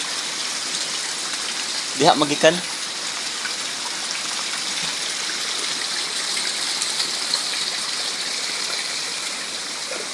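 Heavy rain and rising floodwater rush in a steady, loud broadband hiss that fills the whole stretch, with a brief voice cutting in near the start.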